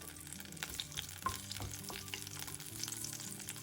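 Garlic and dried red chillies fry in oil in a small pan as a tempering for ginger chutney, giving a steady close sizzle with sharp crackles and pops throughout.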